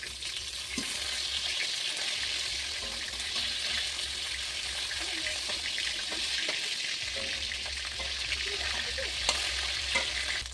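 Katla fish pieces frying in hot oil, a continuous, even crackling sizzle close by that holds steady throughout with occasional faint clicks and no voices.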